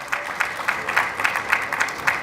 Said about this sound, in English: and they are clapping